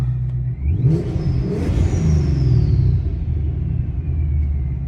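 A supercharged Ford Mustang revs up through a valved exhaust with a deep rumble and whine, loud and close, then settles into a steady throaty idle.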